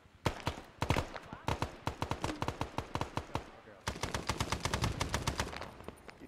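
Machine gun fire from a video game crackles in long, rapid bursts of sharp, loud shots, with brief pauses between strings over about six seconds.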